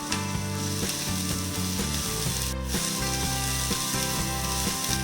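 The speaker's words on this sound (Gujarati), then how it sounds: "ફાઇનલી છેલ્લે કોબીજ નાખી સાતરશું" Cabbage sautéing with vegetables in a pressure cooker for fried rice, a loud steady sizzle with rhythmic scraping stirs throughout, close up and without talk.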